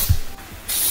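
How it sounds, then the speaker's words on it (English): A spray gun driven by compressed air applies stone chip paste, giving a steady, close hiss that starts abruptly late in the moment after a brief low thump and continues without talk. "Stone chip or stone guard is applied as a paste using a spray gun and compressed air."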